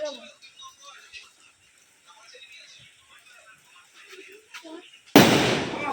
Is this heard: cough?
no